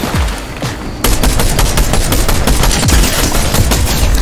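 Rapid Evo Chrome shotgun fire in Fortnite: a loud burst of close, repeated blasts after a brief lull, the shots coming in a quick, dense rhythm with booming low thumps.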